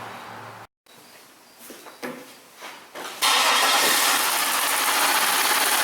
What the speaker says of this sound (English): let's give it a throttle snap now